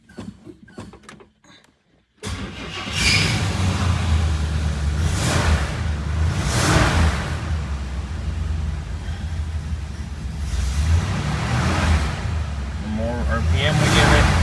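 A 1966 Cadillac Eldorado with weak alternator output starts abruptly after a couple of seconds of near quiet, then keeps running steadily and loudly, close by, with voices faintly in the background.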